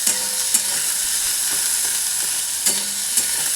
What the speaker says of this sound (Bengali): আর এটাকে আমি পেঁয়াজটা একটু লালচে করে ভাজবো।